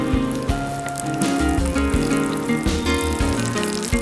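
Egg-battered egg and potato mixture fries in a pan with a steady close crackle and sizzle, overlaid by a sustained tonal hum from background music.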